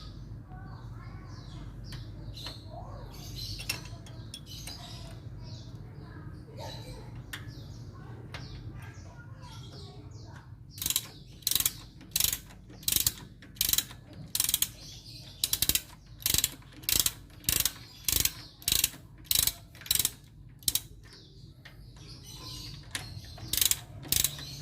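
Ratchet wrench with a size 10 socket loosening bolts on a 1.5-litre Suzuki Baleno engine, heard as a run of sharp, evenly spaced clicking bursts in the second half, after quieter handling noises and a faint background hum.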